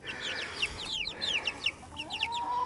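Young pullet chickens cluck and peep in a coop after being moved in from a meat bird run. Many bright, overlapping chirps and clucks sound close by in a steady flurry.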